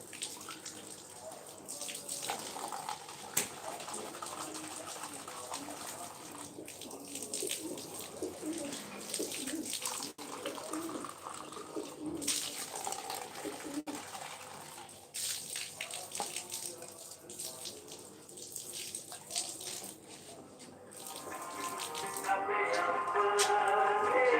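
Water from a tap splashes while pet pigeons are washed, with the birds cooing nearby. The running water is continuous and close, with occasional knocks, and the splashing grows louder near the end.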